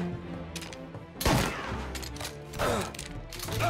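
Shotgun blasts during a firefight in the video game Mafia: Definitive Edition, two loud booming shots about a second and a half apart with scattered mechanical clatter and background gunfire between them, no voice.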